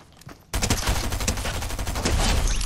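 Gunfire in Fortnite bursts in suddenly after a quiet moment and continues as a loud, rapid rattle of repeated shots with little pause.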